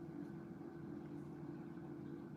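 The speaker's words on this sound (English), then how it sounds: "Somebody keeps revving up a motorcycle, Josh, so she's scared." A motorcycle engine drones steadily in the background, a low continuous rumble at moderate distance with no distinct revving peaks, running alone without speech.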